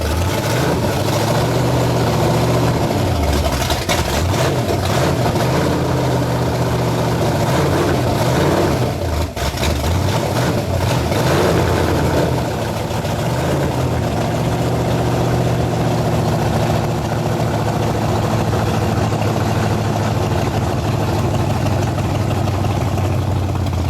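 A newly tuned engine idles loudly and close for a long stretch after starting, a dense steady rumble that dips and wavers a few times before settling into an even idle.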